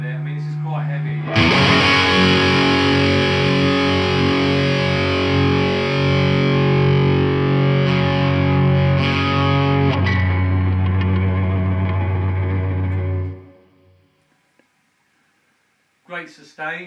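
Gibson Les Paul 60's Tribute electric guitar with P90 pickups played through heavy distortion: a loud, sustained chord that rings for about twelve seconds before cutting to silence, then a brief noise at the very end.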